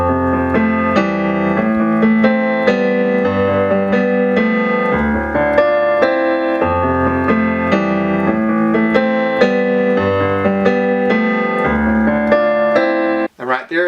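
Piano plays the instrumental riff of a song at a quicker tempo, with steady rhythmic chords over a sustained bass, loud and close for most of the clip before cutting off at the end.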